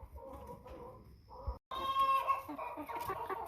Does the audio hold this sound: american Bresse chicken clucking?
yes